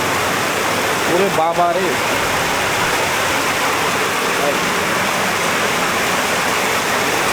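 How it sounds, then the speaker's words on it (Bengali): Torrential heavy rain pours down steadily over flooded fields, a loud, dense and unbroken hiss filling the whole clip, with a brief startled exclamation from a person near the start. "বৃষ্টির কি শব্দ আর বেগ"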